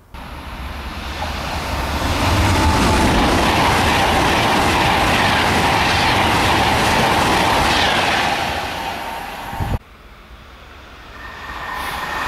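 An express train roars through a station in the Cheshire Plains, a loud sustained rush with rail clatter building over about two seconds, holding steady, then cutting off abruptly near the end before a quieter hum returns.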